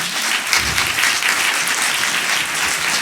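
A conference hall audience applauds at a talk by comics author Joann Sfar in Lyon, dense sustained clapping at an even loudness from start to finish with no voices rising above it.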